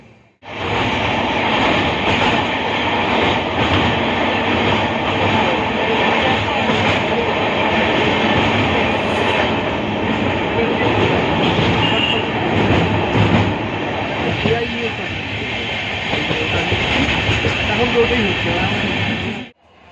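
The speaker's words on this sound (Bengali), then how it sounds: "ট্রেনে আমরা যখন যাচ্ছিলাম তারই কিছু দৃশ্য অর্পিতা সংগ্রহ করেছিল" Inside a moving train, a loud, steady rumble of wheels and carriage fills the whole stretch, with faint rhythmic clatter beneath it. Voices are heard over the noise.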